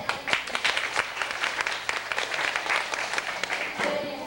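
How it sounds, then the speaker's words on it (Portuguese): Clapping from an audience at a reading and writing seminar welcoming a speaker, a moderate round of applause with distinct individual claps, fairly close and steady, tapering near the end. "Vamos assim acolhê-la com uma salva de palmas."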